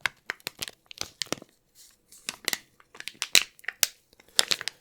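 Close-up ASMR crinkling and crunching of material, a quick irregular run of sharp crackly bursts separated by brief silent gaps.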